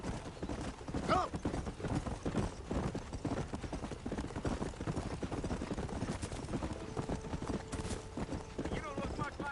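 Galloping horse hooves in the Western video game Red Dead Redemption, a rapid continuous clip-clop with occasional snorts, mixed with game voices talking throughout.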